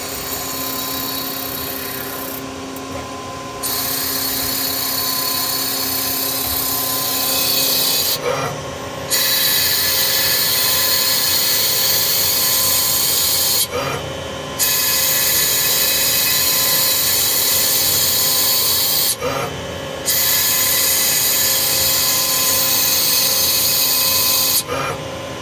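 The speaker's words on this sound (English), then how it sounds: "that turning tool is gonna do its facing pass. It's gonna jump back out and do a couple turning passes" Brass part turning on a CNC lathe, a steady loud machining roar with the cutting tool's hiss running throughout, broken every few seconds by brief gaps as the tool pulls back between facing and turning passes; no talk.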